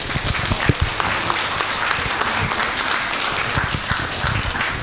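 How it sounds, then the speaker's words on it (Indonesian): An audience at an Indonesian career self-improvement seminar breaks into a dense round of applause, steady and fairly loud for the whole stretch with no talk over it. "Boleh tepuk tangan meriah untuk kita semua?"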